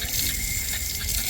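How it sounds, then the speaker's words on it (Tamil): Tap water running during handwashing at a temple site, a continuous broad gushing hiss that stays steady and fairly loud for its short span. "இப்படி தான் கை கழுவணும்,"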